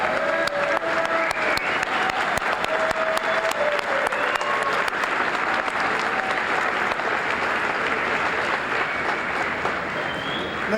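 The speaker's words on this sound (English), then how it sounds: "applause." Steady, dense applause from a large crowd at a 2012 Jefferson College commencement ceremony, sustained and loud throughout with faint cheers and voices mixed in.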